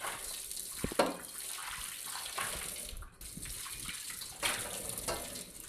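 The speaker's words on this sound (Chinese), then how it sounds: "刷完以后把水倒掉，再用流动水冲洗干净。" Tap water runs steadily into and over a new iron wok as it is rinsed, a continuous splashing rush with a few louder gushes and clanks near the start.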